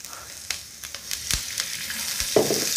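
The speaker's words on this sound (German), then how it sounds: "Und dann können die Paprika schon mal schön braten." Bell peppers frying in olive oil for a Turkish scrambled egg dish, a soft sizzle broken by repeated clicks and scrapes of a utensil in the pan, near and moderately quiet, with no voices.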